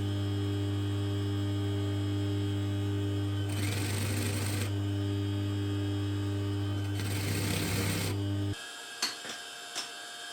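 A sewing machine stitches fabric straps for a phone pouch on a wide stitch length, running in two short bursts over a steady electrical hum, followed by a few faint clicks.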